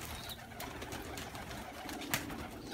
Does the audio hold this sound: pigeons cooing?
yes